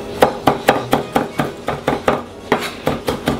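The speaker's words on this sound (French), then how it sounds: "Hacher finement comme ça, terminé." A knife chops parsley finely on a board, giving about a dozen crisp, evenly spaced taps close by, with a short pause partway through and no talk.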